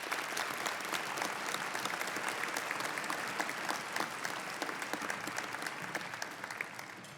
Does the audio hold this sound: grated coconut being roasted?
no